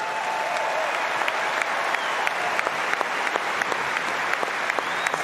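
Crowd applause at the Roland-Garros 2023 tennis final ceremony, a dense sustained roar of clapping from a large stadium audience with scattered sharper claps standing out throughout.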